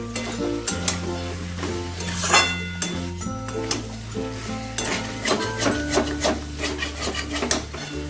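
Prawns and potatoes fry in a pan with garam masala as a utensil scrapes and stirs, continuous sizzling under repeated rubbing and scraping strokes, close and fairly loud.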